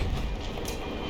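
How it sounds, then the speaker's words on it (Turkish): A train rumbles past in the World War I shooter game Battlefield 1, a dense, loud, continuous roar of rolling heavy machinery with no voices. "O trene karşı sen ne bok yiyeceksin?"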